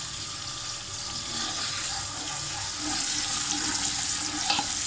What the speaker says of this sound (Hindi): 3 टेबल स्पून लहसुन अदरक का पेस्ट है। इसको हम थोड़ा सा सौते करेंगे।